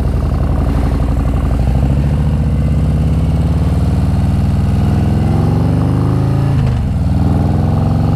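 A 2020 Harley-Davidson Road King with a Screaming Eagle 131ci Stage 4 engine roars loud and close in a continuous deep rumble that climbs steadily in pitch as it is revved hard during a burnout, with a brief dip near the end.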